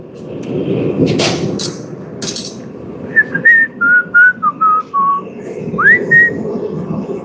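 A person whistles a short, wavering tune in a blacksmith's forge. A few loud metallic clanks and shop noise come first, then the clear, close notes follow one after another.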